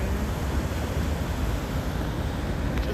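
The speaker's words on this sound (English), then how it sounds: "Just looking at the waves" Ocean waves wash in a continuous broad roar, heard from a shoreline and mixed with wind buffeting the microphone, steady and fairly loud throughout.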